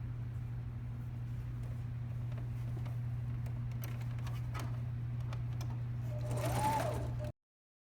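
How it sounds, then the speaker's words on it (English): Sewing machine top stitching the waistband of a raglan sweatshirt, a steady continuous hum with a faint rapid needle rhythm, running alone throughout. "the last step is going to be to top stitch the waistband here"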